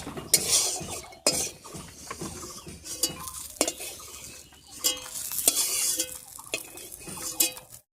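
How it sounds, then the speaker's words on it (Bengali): Lentil dumplings fry in hot mustard oil with a crackling sizzle, broken by repeated sharp clinks and scrapes of a metal spatula against the pan as they are turned and stirred. "এবার ডালের বড়ি কটা ভেজে দিচ্ছি"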